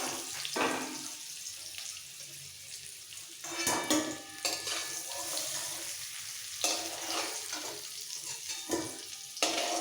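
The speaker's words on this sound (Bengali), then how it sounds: "গোল্ডেন ব্রাউন করে ভেজে নিতে হবে আলু ভাজা হয়ে গেছে" Potato pieces frying in hot oil until golden brown, a steady close sizzle with occasional stirring scrapes and louder bursts, no one talking.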